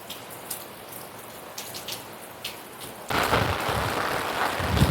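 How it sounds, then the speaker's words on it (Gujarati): Heavy monsoon rain pours down over a terrace, a dense steady hiss with scattered drops striking nearby, swelling abruptly louder partway through into a harder downpour. "બહુ વરસાદ પડે છે, ધોધમાર."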